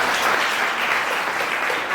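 A church congregation applauding in praise, a continuous, loud, dense wash of clapping from many hands with no break.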